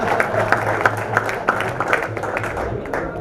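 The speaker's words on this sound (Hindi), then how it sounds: "इस बार तालियां बजाओ" Applause from the audience at a Haryanvi hasya kavi sammelan, a comic poetry gathering: a moderate wash of clapping with some sharper individual claps standing out.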